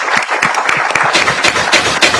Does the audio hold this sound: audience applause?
yes